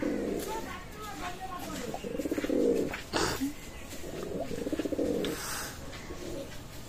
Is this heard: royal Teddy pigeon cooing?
yes